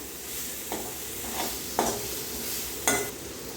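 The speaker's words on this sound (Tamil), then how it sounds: "அது கருவேப்பிலை, பச்சை மிளகாய் இதை போட்டு வதக்கி விட்டுக்கிறோம்" Crushed shallots, curry leaves and green chillies sautéing in a pan give a steady sizzle, broken by a few soft stirring scrapes of a spoon, close and alone without voices.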